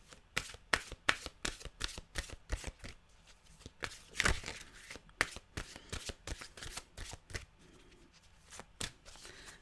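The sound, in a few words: shuffling a deck of mantra cards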